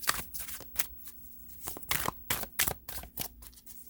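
Tarot cards shuffled by hand, a quick series of close, crisp riffling bursts and soft slaps separated by brief pauses, with no talking.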